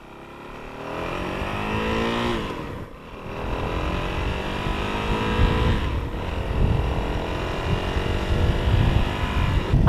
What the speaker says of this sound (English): I'm getting a lot of that big single-cylinder noise, which I love, which is awesome.